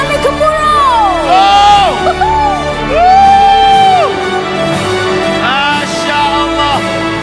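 A crowd at a company award dinner cheers and whoops loudly for an award winner, with high sliding shouts rising over steady noise throughout.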